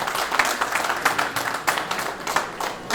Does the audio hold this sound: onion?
no